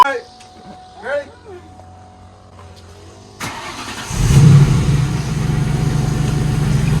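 A parked Ford Mustang's engine starts up and settles into a steady, loud idle close by. Quiet voices and small noises come before it starts, and the idle then runs on without break.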